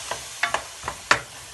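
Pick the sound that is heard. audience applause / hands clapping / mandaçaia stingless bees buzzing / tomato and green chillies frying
tomato and green chillies frying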